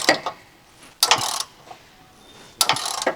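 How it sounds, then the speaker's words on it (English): An extendable ratcheting wrench tightens trailer hitch bracket bolts on a Land Rover Discovery 4, three short bursts of rapid clicking separated by pauses, close and alone. "Use an 18mm wrench with a 19mm deep socket and an extendable ratcheting wrench. Tighten the side bracket to frame rail bolts."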